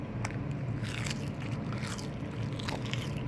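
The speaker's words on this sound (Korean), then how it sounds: "오늘은 김이 바삭하네요" Close, quiet crunching and crisp chewing of dried seaweed, irregular bites over a low steady background hum.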